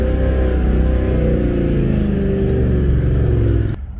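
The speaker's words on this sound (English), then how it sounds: "A bit more revs now, like we did last time." A 4x4 engine drones loudly and steadily at high revs in low range while driving on beach sand, straining without letup, then cuts off abruptly near the end.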